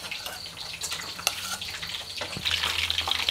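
Fish fries in oil with a bright, crackling sizzle that swells and fades. Clatters of handling cut in, and the sizzle grows louder toward the end.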